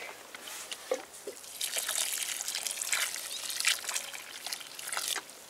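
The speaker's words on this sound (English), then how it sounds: "Now good watering." Water trickling and splashing onto the soil around a newly planted tomato plant in a cardboard box garden, a soft close pour with uneven gurgling bursts and drips, fairly quiet and without talk.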